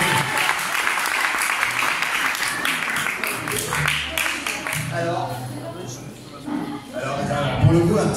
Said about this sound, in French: Bonne Camille, on applaudit encore